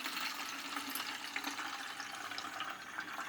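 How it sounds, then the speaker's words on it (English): Water pours steadily into a Nixx Technologies Foam Cannon Pro bottle, a continuous close splashing rush of filling liquid with no talk over it. "take 500 milliliters of water and load the foam cannon"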